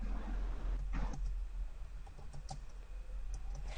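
Typing on a computer keyboard while entering a spanning tree primary command in privileged mode, a short run of soft clicky keystrokes, close and fairly quiet over a steady low background hum.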